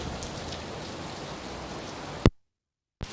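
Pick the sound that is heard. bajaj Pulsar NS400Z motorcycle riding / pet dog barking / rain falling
rain falling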